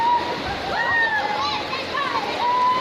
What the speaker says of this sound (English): Look at all the rain happening